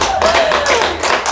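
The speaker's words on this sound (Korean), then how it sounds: "박수 한번 쳐드릴까요?" A small audience at a lecture on Korean dance claps briefly, a dense, loud patter of many hands lasting just over a second.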